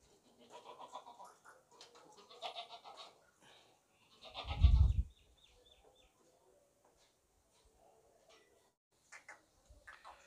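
Goat at a market selling sacrificial goats, giving a few bleats between bursts of nearby talk, with one louder low thump midway and quiet stretches after.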